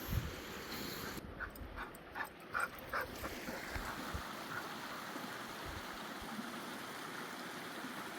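Creek water flows steadily in a continuous broadband wash, with a dog splashing nearby in the water; no talk.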